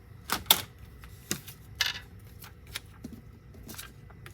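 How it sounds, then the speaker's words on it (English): A paper trimmer slices through paper for scrapbooking with a few sharp snips and clicks, then lighter rustles and taps, close and fairly quiet. "Let me bring in my paper trimmer."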